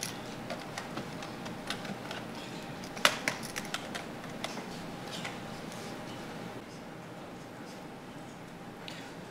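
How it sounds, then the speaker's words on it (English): A bike-powered 3D printer printing food gives off quiet, irregular ticking and clicking, with a few sharper clicks standing out over a soft background hiss. "let's take a look at a bike-powered 3D printer making some food"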